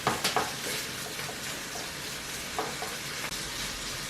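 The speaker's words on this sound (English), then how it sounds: "Ooh, you can hear that sizzle." Italian sausage sizzles and fries in a pan with a steady crackling hiss, broken by a few sharp clinks and scrapes of a utensil stirring, no voices.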